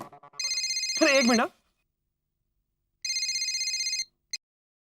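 A telephone rings in bursts of bright electronic trilling, loud and close. A voice talks over the end of the first burst, a second long ring follows after a pause, and a brief chirp closes it.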